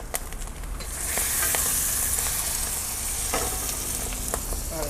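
Ingredients dumped from a whole bowl into a pot sizzle and fry while being stirred, a steady hiss that swells after a second, with scattered scraping clicks of a spoon and no talk.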